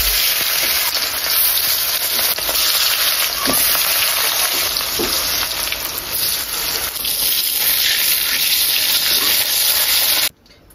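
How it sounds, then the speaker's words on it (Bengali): Fish frying in hot oil in a home kitchen, a loud, steady, close sizzle and crackle that runs unbroken for about ten seconds before cutting off abruptly. "এখন আমি এই মাছগুলাকে এই গরম তেলে সুন্দর করে ভেজে নেব"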